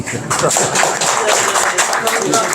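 Clapping from attendees at a fall gathering of a Korean alumni association, a steady wash of hands mixed with background voices and chatter in an indoor hall.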